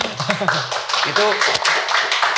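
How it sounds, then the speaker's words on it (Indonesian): Several people clap briefly in a room while voices keep talking over the applause. "tepuk tangan"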